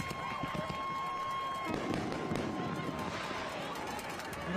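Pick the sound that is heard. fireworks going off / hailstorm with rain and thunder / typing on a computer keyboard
fireworks going off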